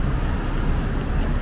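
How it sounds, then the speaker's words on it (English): A truck hauls a very heavy load along Bay Street in Toronto, a steady low engine rumble and road roar that fills the whole moment with no pauses. "And here's a truck pulling something very"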